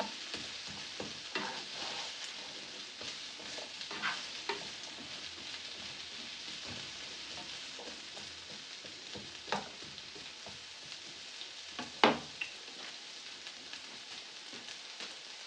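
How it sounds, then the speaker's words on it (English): Carrots and onions browning in a pan for a goulash give off a steady low sizzle and crackle, with occasional scraping stirs and clinks of a utensil, including one sharp knock near the end, and no talking. "the carrots and onions are just about where I want them right now"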